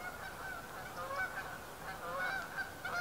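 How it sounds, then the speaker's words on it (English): A flock of geese honks while flying overhead outdoors, a steady run of overlapping calls at moderate distance, with no talking. "Here come my geese. You'll hear them in just a second."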